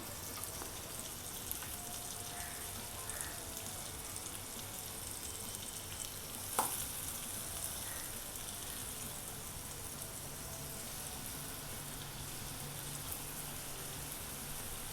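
Pineapple slices roasting with masala on a hot tawa, a soft steady sizzle and crackle throughout with one brief sharp click midway.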